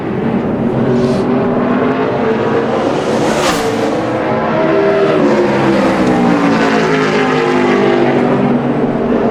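A NASCAR Nationwide Series race car on a qualifying lap at Bristol Motor Speedway in 2010, its engine roaring loud and steady with rising and falling pitch as it circles the track, a brief whoosh midway.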